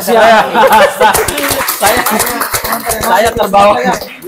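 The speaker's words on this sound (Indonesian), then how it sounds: "Kita tepuk tangan dulu" Audience clapping breaks out at an Indonesian televised presidential debate event, a dense run of overlapping claps with some laughter mixed in, fairly loud throughout.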